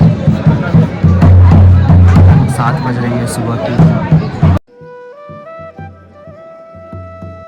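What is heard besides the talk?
crowd of pilgrims at Gangotri temple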